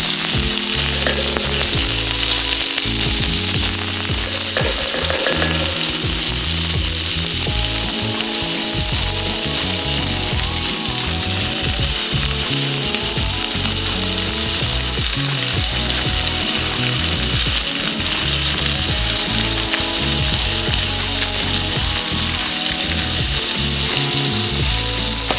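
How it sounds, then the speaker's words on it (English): Curry paste toasting in a pan for Dungeness crab curry produces a loud, dense, continuous sizzle up close, with stirring scrapes and knocks running through it, no speech. "Technically it's toasting the curry."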